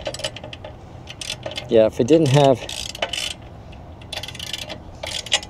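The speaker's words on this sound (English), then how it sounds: "Now we can tighten it down." Long socket wrench tightening down bolts on a bike rack, a quick burst of close ratcheting clicks in two runs, with someone talking briefly around it.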